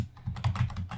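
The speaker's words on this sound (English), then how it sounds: "then type the command python" Quick burst of computer keyboard typing as a command is entered, several crisp, close key clicks in an uneven rapid rhythm lasting about a second.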